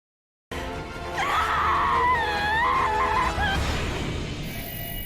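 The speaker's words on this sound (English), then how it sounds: "Quite the scream." A long, loud, wavering scream from a Final Fantasy 7 Remake Intergrade trailer, rising and bending in pitch over a few seconds above a dense backing of music and effects.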